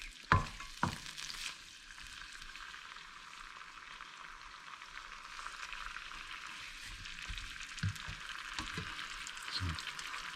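Kangkung with garlic stir-fried in a pan gives a steady, hissing sizzle throughout, with a couple of sharp utensil knocks at the start and soft stirring scrapes later.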